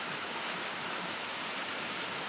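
Heavy rain pouring down in a dense, continuous hiss, loud and unbroken throughout, with no voices present.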